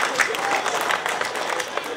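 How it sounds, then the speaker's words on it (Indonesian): Audience at an Indonesian tabligh akbar religious gathering applauding police, a dense steady wash of clapping lasting throughout, with faint voices mixed in. "Tepuk tangan dulu buat Pak polisi kita."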